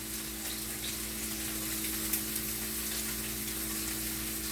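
Steady, even sizzling of beef filet searing in a hot pan, a constant frying hiss with a low hum underneath and no talking.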